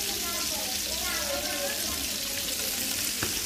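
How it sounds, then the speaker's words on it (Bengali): Rohu fish pieces being turned and fried in hot oil: a dense, steady hiss of frying close by, with a faint clink of a utensil near the end. "ভালো করে উল্টে পাল্টে ভেজে নিব।"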